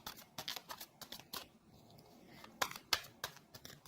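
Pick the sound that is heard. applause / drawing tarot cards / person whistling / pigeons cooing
drawing tarot cards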